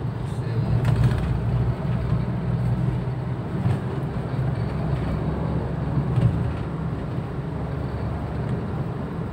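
A Daihatsu Xenia with a 1.0 engine pulls through third and fourth gear, heard from inside as a steady, close, low engine drone and road rumble without pauses.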